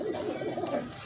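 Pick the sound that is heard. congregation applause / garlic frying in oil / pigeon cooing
pigeon cooing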